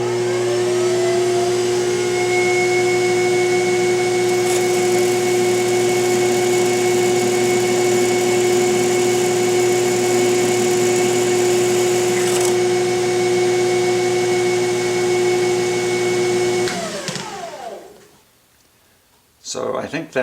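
A twist drill whines steadily while cutting into metal for a long stretch, with a high sustained tone, then spins down and stops near the end.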